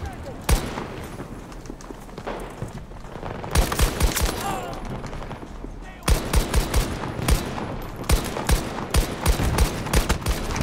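The Hourglass weapon fires in a video game in rapid bursts of sharp, loud shots, some clustered into quick strings and others spaced out, over several seconds with brief pauses between volleys.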